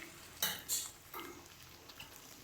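A spoon scrapes and stirs chicken pieces coated in tomato paste in a frying pan, giving a few distinct close clinks and scrapes over a faint sizzle.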